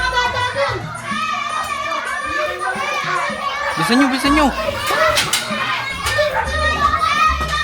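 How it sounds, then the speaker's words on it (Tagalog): Children play noisily outside a house, with overlapping shouts, squeals and chatter in a busy jumble. Adults speak close by over the din. "yung mga bata dun, ang ingay ng gugulo."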